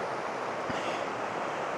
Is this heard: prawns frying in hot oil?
no